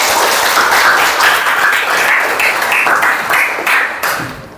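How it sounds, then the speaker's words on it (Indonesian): An audience claps together in a classroom session, a steady wash of applause that stays loud for several seconds and then tapers off at the end. "Kasih aplaus untuk kita semua."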